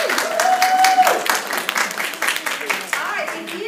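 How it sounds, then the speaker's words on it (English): Applause and clapping from guests at a beauty consultant hostess event, a brief burst of hands from a room of people with a voice talking over the top. "Let's give them a round of applause."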